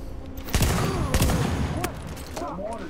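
Sniper and automatic gunfire in The Division, a burst of sharp loud shots and rapid crackling volleys spread across a few seconds amid a noisy combat backdrop.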